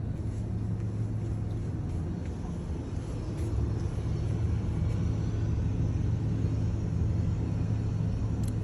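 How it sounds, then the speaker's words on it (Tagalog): Airplane passing overhead, a steady low engine rumble and drone that holds and swells slightly, heard without speech. "Usawa ka dito ng eroplano."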